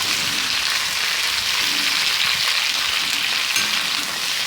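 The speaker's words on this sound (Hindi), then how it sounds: "हमें इसे इतना भूनना है कि आधे कुंदरू जो है वो पक जाए।" Ivy gourd (kundru) frying in a pan for a masala gravy, giving a steady, loud, continuous sizzle with faint scraping of stirring underneath and no voices.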